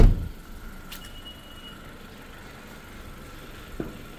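A 2019 Honda Civic with a 1500cc turbo engine idles in a steady, low, even hum, with a brief sharper click near the start and another toward the end.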